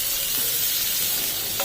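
Chopped tomato sizzles and fries in a pan with spices for paneer butter masala, a steady close hiss with occasional stirring scrapes.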